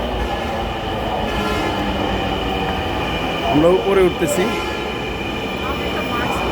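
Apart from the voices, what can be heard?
Dhaka metro rail train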